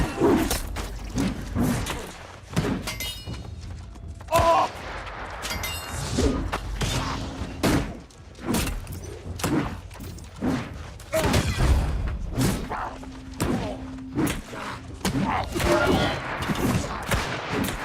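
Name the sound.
gunfire in the video game New World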